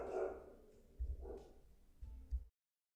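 A dog barks a few times at a distance, short muffled woofs spread out with quiet gaps between them.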